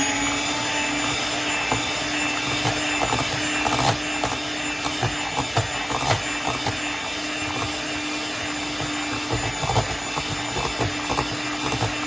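An electric mixer whisks Jamaican black fruitcake batter in a home kitchen, a steady whirring motor drone with scraping and clattering against the bowl, loud and continuous throughout.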